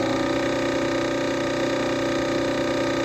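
A spark-ignition engine runs on a lab rig during an ignition-timing experiment, giving a steady, even mechanical hum with no change in speed.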